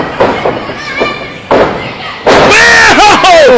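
A wrestler hitting the ring mat in a wheelbarrow side suplex at a live wrestling show: a loud impact boom with a long resonant rumble, under excited crowd noise and commentary.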